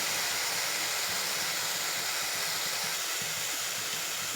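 Gongura leaves and chana dal fry in a pan, a steady loud sizzling hiss that holds evenly from start to finish with no talk over it.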